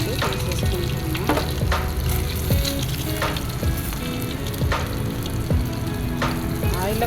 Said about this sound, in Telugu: ఇప్పుడైతే పచ్చిరొయ్యలు కూడా అలాగే వేయించుకున్నాం ఆయిల్లో.